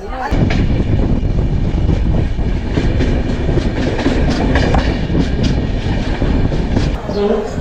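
Constant loud rumble of a passenger train running on its tracks near Patna Junction, Bihar, with the rhythmic clatter of wheels over rail joints and faint voices underneath.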